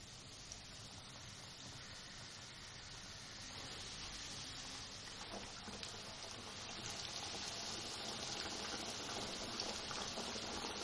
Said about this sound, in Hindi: अब मैं इसको फ्राई करूँगी।